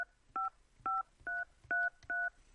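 A telephone keypad enters a user ID: six short, evenly spaced DTMF dual tones, each a clean beep lasting about a quarter second, clear and alone over a quiet line.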